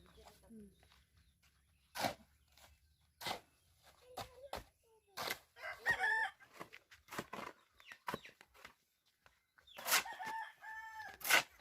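Backyard chickens clucking in short bursts, with a rooster crowing loudly several times nearby and people talking in between.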